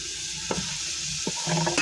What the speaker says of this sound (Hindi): ये 1 चम्मच के करीब मिर्चें हैं, इसको अच्छी तरह भून लेंगे।